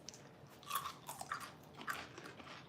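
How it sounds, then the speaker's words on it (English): Someone bites and chews a crunchy homemade probiotic dill pickle, with several faint crisp crunches close to the mic in a quiet room. "I'm gonna crunch mine on the camera."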